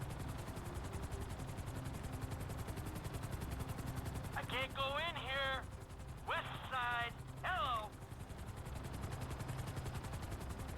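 A helicopter flies in GTA V, its rotor producing a constant rhythmic chop throughout, while a voice speaks briefly partway through.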